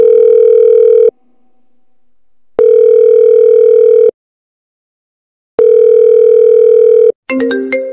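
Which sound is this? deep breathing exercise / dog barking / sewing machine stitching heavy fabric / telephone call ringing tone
telephone call ringing tone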